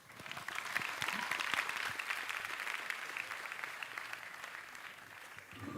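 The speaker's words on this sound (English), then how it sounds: "Round of applause." An audience applauds at the opening ceremony of the ISF World Cross Country Championships in Kenya, a dense patter of many hands clapping steadily, moderately distant, gradually thinning toward the end.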